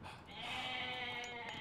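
Goats bleating in the strategy game Age of Mythology, a single short, clear bleat heard alone at moderate volume.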